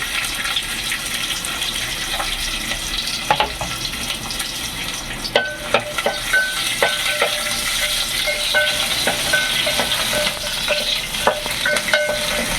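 Steady sizzling of onions frying in a pan for an eggplant dish, with occasional stirring clinks and scrapes rising above the hiss.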